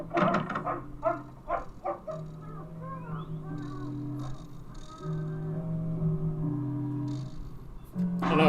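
A dog barks repeatedly in a television show, several quick close barks at the start and again at the end, with sustained tonal music playing between them.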